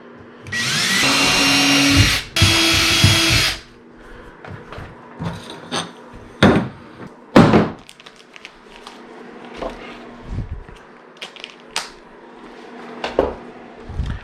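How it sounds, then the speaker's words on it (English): A power drill bores holes into a boat hull to mount an anchor system. Two loud, sustained drill runs come first, followed by scattered short bursts, clicks and handling knocks of hardware. "we're just gonna go ahead and drill out the holes and install this"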